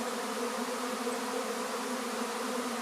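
Swarm of honey bees buzzing around a hive, a dense continuous hum of many wings, steady and fairly close, with no voices.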